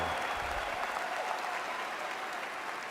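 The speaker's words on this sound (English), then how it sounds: "let's give a big round of applause to these two guys" Audience applause at the Game Awards: dense, sustained clapping from a large crowd, steady and fairly close throughout, with no speech over it.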